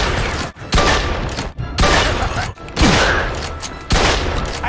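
Heavy gunfire fills a shootout in the video game Mafia II: repeated loud, close bursts of shots with thuds and booms, broken by brief pauses between volleys.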